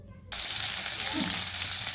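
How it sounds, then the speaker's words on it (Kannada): Curry leaves hit hot oil in a pan with a sudden loud sizzle that settles into a steady crackling fry, close and continuous after a brief quiet start. "ಕರಿಬೇವನ್ನು ರೋಸ್ಟ್ ಆಗೋ ತನಕ ಫ್ರೈ ಮಾಡಬೇಕು"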